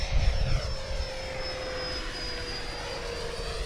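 A Dragon Hobby HSD 90mm Viper RC jet flies past at moderate speed, a steady ducted-fan whine with a high sustained tone, fairly loud at first and then holding level as it passes.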